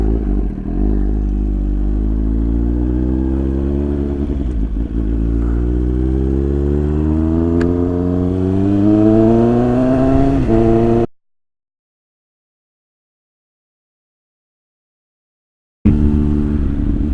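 A small motorcycle engine rises steadily in pitch as the rider accelerates through the gears, loud and close, then cuts to silence before the engine returns briefly.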